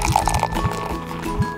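Sparkling coconut water poured from a bottle into a glass, with a short run of rising gurgles and splashes close by over a background hum.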